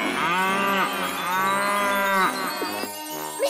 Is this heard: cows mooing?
yes